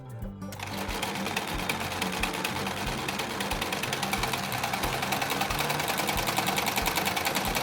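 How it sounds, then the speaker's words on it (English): A sewing machine runs steadily at high speed stitching fabric, its rapid needle clatter continuous and close throughout. "You can sew with a serger or a regular sewing machine."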